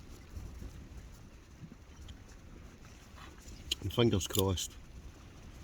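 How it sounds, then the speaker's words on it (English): Wind gusts and rumbles steadily outdoors at a Scottish hill loch during wild camping in heavy rain. Its blustery noise runs under a man's brief nearby speech. "the wind will die down"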